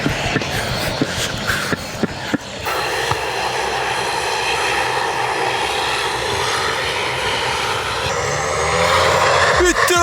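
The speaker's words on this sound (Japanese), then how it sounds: "飛行機が飛びそう。" A loud, steady propeller airplane engine roar swells and holds as it takes off on Yonaguni Island, with voices talking over the continuous drone.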